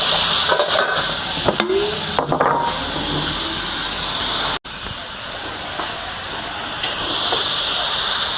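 Corn stir-fried in a pan with a little water gives a loud, steady steamy hiss, with scraping and clattering early on and a brief dropout midway.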